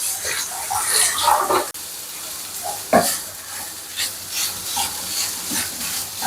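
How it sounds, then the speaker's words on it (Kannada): Spicy chicken for a chicken roll cooks in a pan on a low flame, giving a soft, continuous sizzle with occasional stirring scrapes and a couple of sharper clinks, steady and close throughout. "ಲೋ ಫ್ಲೇಮಲ್ಲಿ ಬೇಯಿಸ್ಕೊತಾ ಇದ್ದೀನಿ."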